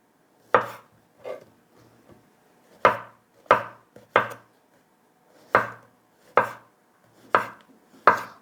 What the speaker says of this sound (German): die Champignons werden einfach nur in feine Streifen geschnitten